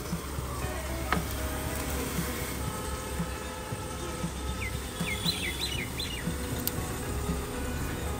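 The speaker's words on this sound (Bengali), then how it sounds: "আর এখানে এসে ডাকে পাখিগুলো।" Birds call outdoors, a few scattered chirps and short tweets rising above a steady, noisy background hum.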